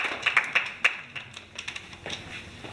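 A fairly small group claps for the first-place team at a school design-technology car challenge. The hand claps are sharp and scattered, loud at first and then thinning into sparser, softer claps.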